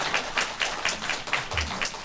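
Congregation at a church worship service applauding to welcome a family standing up, a steady patter of many hands clapping at moderate volume throughout.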